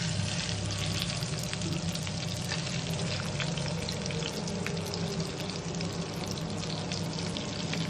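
Pieces of pomfret fish fry in a pan over a medium gas flame, giving a loud continuous crackling sizzle with dense spitting pops throughout.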